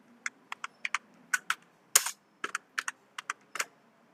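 Names are typed into an Excel sheet on a computer keyboard, about fifteen crisp, close keystrokes in an uneven rhythm with one louder key strike midway and silence between presses.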